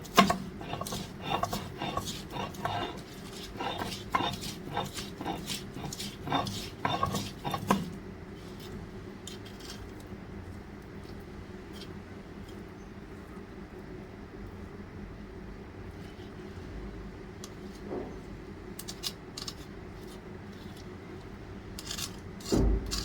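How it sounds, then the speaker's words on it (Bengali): Mashed dried fish and papaya bharta is worked together by hand, making a steady wet rubbing and squishing for several seconds before it settles into near quiet with occasional soft touches. "এই তো এখন ভালো করে মিশিয়ে নিব"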